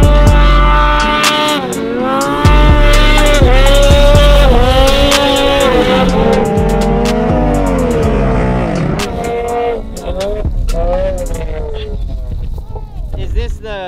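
A snowmobile engine revs hard while riding through sand dunes, its loud whining tone rising and falling repeatedly, with people talking over it.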